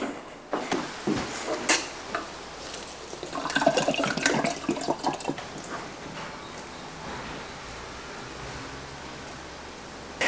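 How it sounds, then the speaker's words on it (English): Water is poured into potted plants with moss poles, a close splashing and trickling that swells then fades to a quieter background hiss, no talk. "I can just pour water down there without it taking up too much time"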